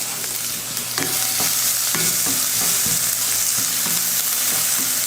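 Finely chopped onion frying with fennel seeds in hot oil for samosa filling, a dense steady sizzle broken by scattered clicks and scrapes of a spoon stirring the pan, with no voices.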